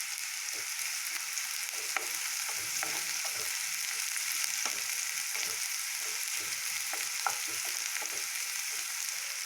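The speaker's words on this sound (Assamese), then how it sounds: "এতিয়া আমি এই পিঁয়াজখিনি ভালদৰে ৰঙচুৱা হোৱালৈকে ভাজি ল'ম।" Finely chopped onions frying in hot oil, a continuous sizzle with occasional stirring clicks, steady and fairly close with no talk.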